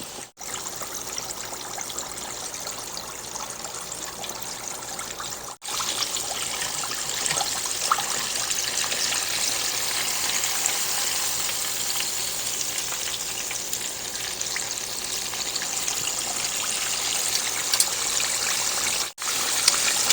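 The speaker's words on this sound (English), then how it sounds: "Once you get up to 350, go ahead and add in your chops" Large bone-in pork chop deep frying in oil heated to 350 degrees, a loud, dense bubbling sizzle that holds steady and close, with brief dropouts and no talk.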